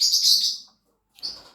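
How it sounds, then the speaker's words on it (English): Small birds chirp in two short bursts, a bright twittering cluster followed by a brief pause and a second quieter call, close and clear with no talking. "And the birds want to chirp in as well."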